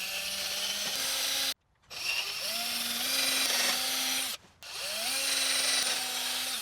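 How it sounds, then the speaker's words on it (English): A power drill bores holes for a security camera mount, whining up in speed in several loud, close bursts separated by brief pauses, with nobody talking. "now you can drill the holes"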